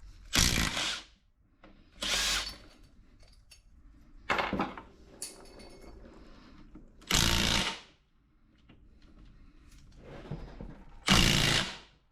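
Power tool, likely an impact gun, zipping out 14mm bolts from a Toyota 4.7 transfer case during a rebuild, five sharp whirring bursts of about a second each separated by quiet pauses, close and loud with faint clinks between.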